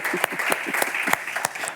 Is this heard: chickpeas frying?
no